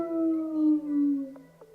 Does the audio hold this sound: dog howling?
yes